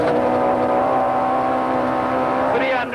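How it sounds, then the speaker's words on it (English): A Nissan Sentra rally car drives hard along a stage, its engine droning steadily and loudly throughout with a rising pitch near the end, with no talk over it. "The Sentra handles the conditions well, and the team goes on to win the stage"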